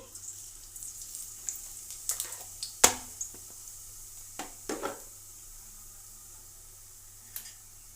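Cumin seeds dropped into hot oil for tomato rice, giving a faint, steady sizzle with scattered crackles and pops, one sharp louder pop near the start, then thinning out; no talking.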